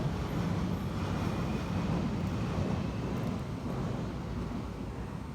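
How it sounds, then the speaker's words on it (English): A London Underground Jubilee Line train produces a steady, loud rumble that fills the whole stretch with a dense, continuous roar and faint wind-like hiss. "Listen to the Jubilee Line."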